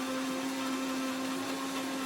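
A mixer grinder whirs steadily while grinding bottle gourd leaves for a mashed vorta, a continuous motor drone with a strong steady hum that holds unchanged from start to finish, no voices over it.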